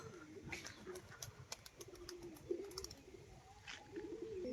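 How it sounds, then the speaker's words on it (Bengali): A female Fulshira pigeon coos softly in low, repeated throaty phrases, faint and close, with scattered higher chirps from other birds around it. "এটা একটা মাদি পায়রা"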